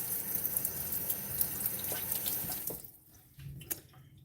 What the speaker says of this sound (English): I'll rinse the spoon off